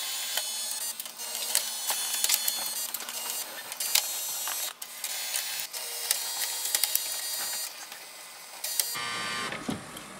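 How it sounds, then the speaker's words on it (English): An HP OfficeJet Pro 9019e feeds two-sided letter pages through its automatic document feeder, giving a steady close mechanical whirring and clicking with sharp ticks throughout, then the motor stops and a softer rustle follows near the end. "So it has scanned both pages from both sides."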